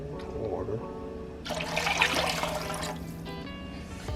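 Two cups of water poured into a pot of Southern-style pinto beans with smoked turkey wings, a brief splashing pour in the middle, with a voice speaking before and after.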